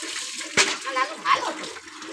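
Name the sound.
water splashing while bathing a child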